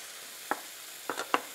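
Minced garlic going into a frying pan with extra oil gives a faint, quiet sizzle broken by three short hissing bursts, with no one speaking.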